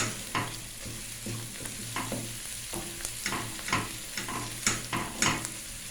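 Chopped onions stir-fried in a pan for an Ethiopian meat dish, a constant close sizzle broken by repeated scraping strokes of the spatula at an uneven rhythm.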